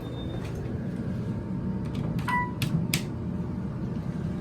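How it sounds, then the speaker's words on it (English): Otis Series 1 hydraulic elevator doors at a hotel in Sandusky, Ohio slide shut with a soft rumble, a short chime and a few sharp clunks near the end, close by. "Doors closing. Please stand clear."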